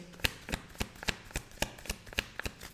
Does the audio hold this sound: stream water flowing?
no